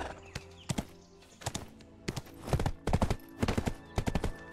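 Repeated clip-clop of horse hooves in quick clusters, crisp and close, like a galloping horse in the game Black Desert, with no talking.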